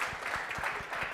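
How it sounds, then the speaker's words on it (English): A conference audience applauds a panel with a steady wash of many hands clapping, moderately loud and continuous through the short stretch. "Please give all of them a round of applause."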